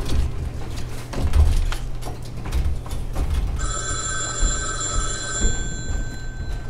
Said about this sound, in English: Excuse me a moment, I have to answer the phone.